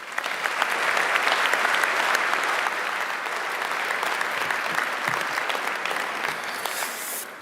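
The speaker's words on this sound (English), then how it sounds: "thank you for the early clap" An audience at a college winter graduation ceremony applauds warmly, a dense, steady wave of clapping that holds for several seconds before tapering off at the end.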